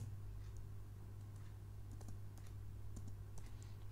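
Keys on a computer keyboard are tapped in quick, irregular clusters while an SQL query is typed, faint and close over a steady low hum.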